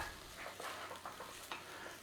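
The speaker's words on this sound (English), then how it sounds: "In there with our onion and garlic, and we're just gonna saute that out." Onion and garlic sauté in olive oil in a pan that is not too hot, giving a soft, even sizzle broken by gentle stirring scrapes, close and quiet, with no voice.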